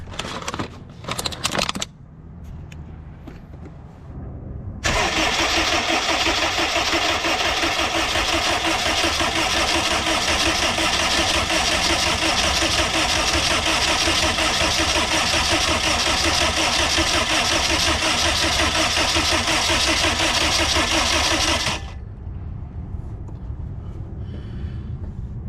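A junkyard car engine with a spun bearing cranks over on the starter for a long steady stretch of about seventeen seconds, a loud uniform whirring drone, preceded by a few brief clicks and knocks.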